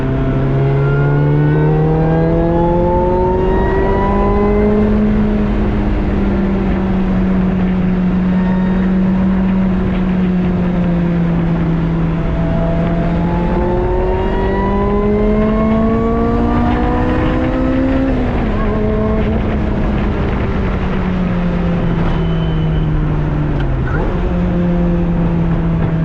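A supercharged Lotus Exige engine pulls hard while driving, its droning tone rising through the revs, dipping at gear changes and climbing again. It is loud and close throughout, with no talking.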